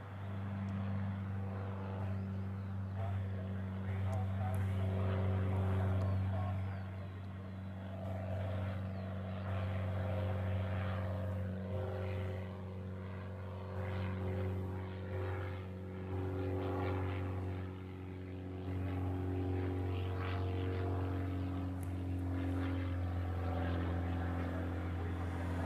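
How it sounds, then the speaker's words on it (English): Propeller-driven biplane droning steadily near Honolulu airport in Hawaii, a continuous low engine hum with a rising and falling pitch as it loops around, moderately close and alone without talk. "Nice little biplane action this morning."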